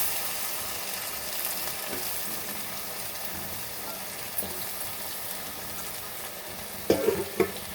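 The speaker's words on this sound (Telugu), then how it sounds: "ఆలు కాసేపు ఇందులో బాగా వేగాలి." Potatoes added to oil with tomato in a pan for a village-style aloo and chana dal curry fry with a steady, close sizzle, broken by a few stirring scrapes and a louder clatter near the end.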